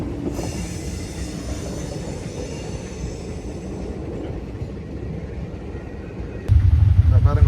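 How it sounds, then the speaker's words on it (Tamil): A train rolls past on a railway line near a harbour, a steady loud rumble of wheels with faint high squeal tones, swelling louder near the end as it passes close. "இதில் பேரங்க ட்ரெயின் போகுது இந்த இடத்துல."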